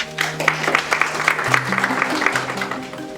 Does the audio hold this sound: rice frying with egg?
no